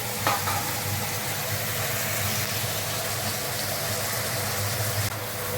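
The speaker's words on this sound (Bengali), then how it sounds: "কুমড়োটা ভাজতে দিয়েছি।" Pumpkin pieces fry in a pan with a steady, dense sizzle that runs unbroken throughout, with occasional soft stirring under the crackle.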